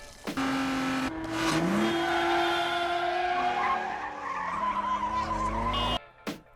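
A film car chase with a roaring engine and long, loud tire screeches rising and bending in pitch, a squealing skid that holds for several seconds before cutting off abruptly.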